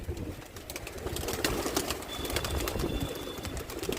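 Pigeons coo softly as they are released from a coop, low throaty calls repeating under scattered chirps and a faint rustle of wings, with a thin whistle briefly audible.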